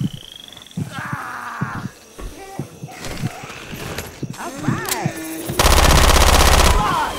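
Frag-round gunfire in the Left 4 Dead 2 zombie shooter builds from scattered shots and game effects into a loud, sustained burst of rapid fire near the end.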